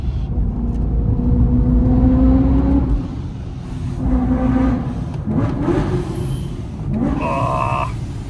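A BMW M3 drives with a steady engine rumble and tire noise, the engine revving up and down through corners while the tires scrape; the car sounds close and loud from inside or near the cabin.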